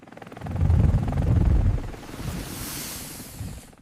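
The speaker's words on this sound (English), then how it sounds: "here's basically a helicopter flying above river" An AI-generated helicopter flies above a river, its rotor throbbing as a low rumbling drone that swells in the first half and then thins into a softer airy whoosh.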